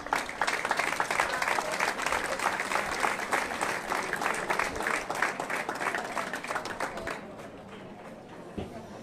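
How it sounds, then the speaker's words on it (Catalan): An audience at a floral offering festival applauds in dense, sustained clapping that fades slightly toward the end, with faint voices underneath. "Un fort aplaudiment"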